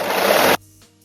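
A sewing machine stitches around the top of a fabric sock made from scraps, a steady dense whir that runs close and loud for about half a second, then stops abruptly, leaving only faint room noise.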